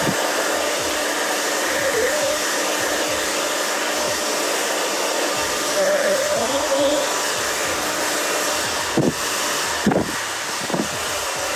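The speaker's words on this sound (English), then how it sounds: "So you can see I'm just round brushing." A handheld hair dryer blows steadily while a round brush works through a woman's short haircut, a continuous close whoosh with slight swells and small bumps as the brush moves.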